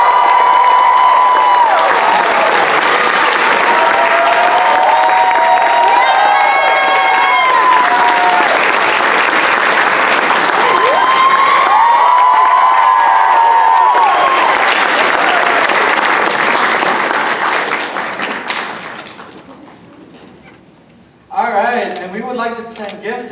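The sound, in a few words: audience applause for live musicians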